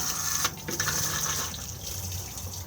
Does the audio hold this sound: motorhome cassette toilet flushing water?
yes